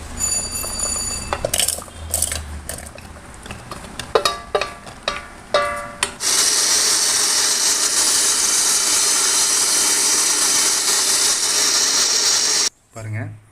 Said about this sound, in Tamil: இப்போ எல்லாத்தையும் ஒன்றா போட்டு நம்ம அரைக்கலாம்